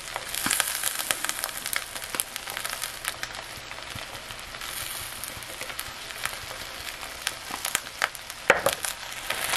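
Food frying and browning in a pan seasoned with smoked paprika, a steady close crackling sizzle with scattered sharper pops and utensil taps, no voices.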